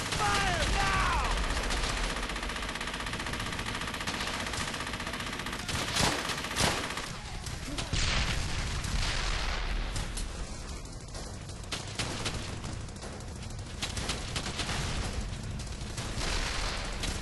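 MG-42 machine gun bursts and a loud fusillade of rifle and artillery fire in a Brothers in Arms trench assault, dense and continuous, with shouted voices briefly heard.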